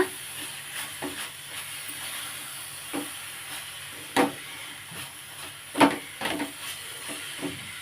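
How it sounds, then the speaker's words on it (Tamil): A sweet mixture made as a constipation remedy sautés in a pan over low heat, giving a soft, steady sizzle broken by occasional scraping clicks as it is stirred and gathered together. "இதை நல்லா இதிலே வதங்கட்டும்."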